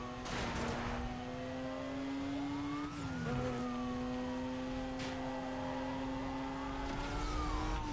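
A police car siren wails steadily in the Need for Speed Most Wanted 2005 video game, its tone sweeping up and down over a continuous car engine drone, with no talk.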